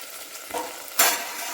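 Spices stirred into rice in a pot over a rustic wood-fired clay stove, two short scraping stirs with a soft sizzle, the second louder and brighter, with no one speaking.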